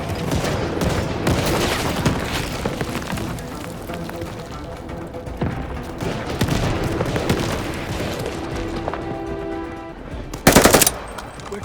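Rapid machine gun fire rattles through a World War II battle in the Call of Duty: Vanguard cinematic, dense continuous bursts with one sharp, loud blast near the end.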